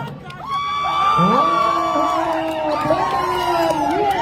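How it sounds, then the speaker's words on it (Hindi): Cricket players at a local tournament in Jangipur whoop, shout and cheer loudly after a wicket, several voices rising together in an excited burst that holds throughout. "अपने खिलाड़ियों को प्रोत्साहित कर रहे हैं एंडोगठिया के खिलाड़ी, ताली बजाकर के स्वागत कर रहे हैं इसका।"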